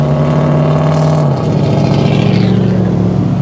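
Top down on a BMW i8 plug-in hybrid convertible, the engine note holds steady and then rises as the car accelerates, loud and close, with the buzzy drone climbing in pitch toward the end.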